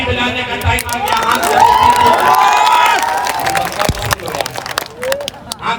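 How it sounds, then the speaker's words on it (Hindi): Large outdoor crowd at a Bihar election rally in Nalanda cheering and shouting, a loud sustained wave of voices that swells and then thins out, with no distinct clapping standing out. "झूठ नहीं बोले तब ताली बजाने का टाइम आ गया"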